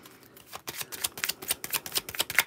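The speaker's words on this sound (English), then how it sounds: "I like to shuffle and pull the cards on camera so you can see me actually doing it." Lenormand cards are shuffled by hand, giving rapid, crisp, close riffling flicks in an uneven rhythm for a couple of seconds, with no voices.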